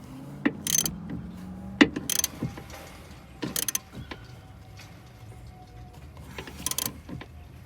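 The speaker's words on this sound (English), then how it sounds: "then we'll tighten the top nut" Wrench work on the 14 mm top nut of a Toyota Yaris rear shock absorber, with several sharp metallic ratcheting bursts spaced apart amid quieter shop noise, fairly close.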